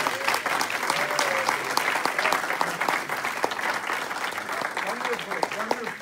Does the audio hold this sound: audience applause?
yes